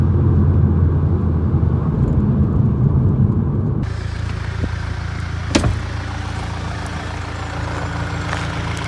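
A rebuilt 2012 Volkswagen Golf GTI with the 2.0 TSI engine on a test drive, giving a steady, full exhaust and engine drone heard from inside the car that eases slightly partway through, with no talking.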